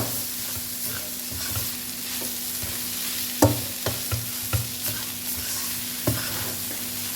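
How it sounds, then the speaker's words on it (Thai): Curry paste being stir-fried in a hot pan for curry fried rice, a steady close sizzle with scraping stir strokes and a few sharper clacks of the spatula against the pan. "ก่อนจะเอาข้าวมาผัดเอาเครื่องแกงผัดก็ได้"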